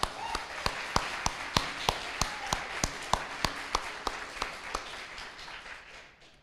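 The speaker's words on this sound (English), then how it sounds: "So a big round of applause for the North Shore Bike Park," A small audience at the North Shore Mountain Bike Association annual general meeting gives a thin round of applause, about twenty spaced, distinct claps in a fairly even rhythm that slows and fades toward the end.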